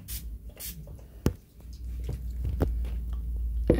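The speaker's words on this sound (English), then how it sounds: "I'm gonna spray some Febreze." Febreze air freshener sprayed onto curtains indoors: two quick, airy hissing bursts near the start, followed by scattered light handling knocks and a soft thump, with no one talking.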